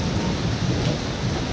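Heavy rain pours down in a storm that has flooded the ground knee-deep, while a low thunder rumble rolls steadily underneath the constant hiss of the downpour.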